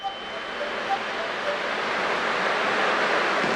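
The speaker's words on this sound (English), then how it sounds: "I can still clearly hear the sound of the waves." Ocean waves wash steadily on a shore in the video game Honkai: Star Rail, a broad hissing surf that swells slightly louder over a few seconds.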